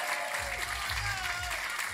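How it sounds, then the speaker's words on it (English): Applause from the audience at an indie game awards ceremony, a steady wash of clapping that fills the whole moment at moderate volume. "Can we please give a big round of applause"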